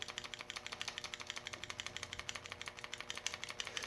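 A Lionel 8213 smoke generator bellows, repaired and filled with pure mineral oil, is pumped by hand in a fast, even rhythm of soft puffing clicks, faint and close, with no voices.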